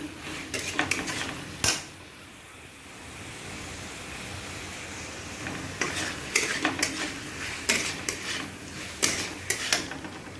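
Spices including turmeric, cumin, chili and salt being stirred into a cooking pan, with a utensil scraping and clattering in irregular bursts over a soft background sizzle, no talking.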